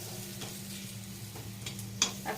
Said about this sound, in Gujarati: હવે મરચાંમાં લોટ નાખવાનો છે, ચણાનો. થોડો થોડા રીતે નાખી મિક્સ કરવાનું